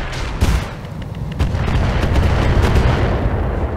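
Heavy weapon fire and explosions in a Roguetech/Battletech mech battle against Clan tanks: a loud opening boom, then a pounding barrage of cannon shots and blasts rolling continuously under a dense roar.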